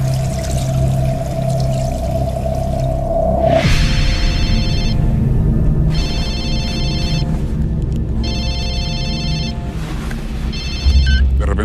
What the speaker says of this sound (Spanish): Suena mi móvil de empresa